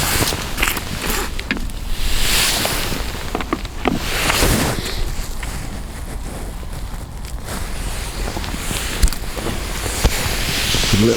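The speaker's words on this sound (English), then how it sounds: "the wind is making it very difficult indeed" Wind by a river while fishing roars and buffets against the microphone in uneven gusts, loud and continuous, with a few small knocks in between.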